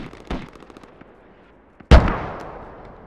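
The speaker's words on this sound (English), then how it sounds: "we're gonna mortar the shit out of the lodgy" A mortar round in the tactical shooter Squad goes off as one sharp, heavy blast that rolls into a long, fading rumble. A smaller thud comes just before it, over a faint bed of battle noise.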